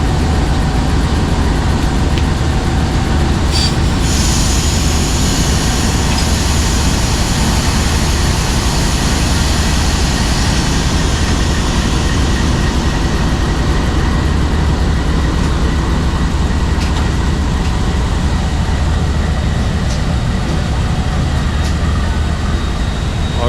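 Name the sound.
Sir Syed Express train running on rails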